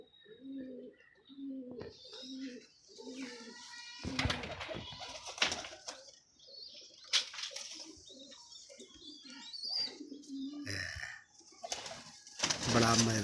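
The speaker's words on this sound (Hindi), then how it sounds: "बड़ा मजेदार कबूतर है" Pigeon cooing at close range in repeated low throaty phrases, mixed with sharper chirps, bursts of wing flapping and handling noise, with people talking at times.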